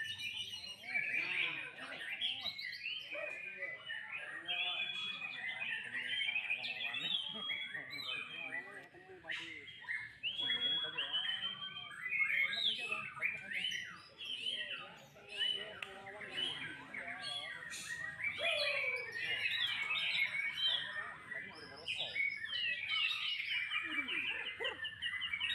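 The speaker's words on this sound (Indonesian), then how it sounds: "Perenjak lagi" A prinia (perenjak) sings in a steady, busy stream of high, rapid chirps and trills running throughout, with people talking over it.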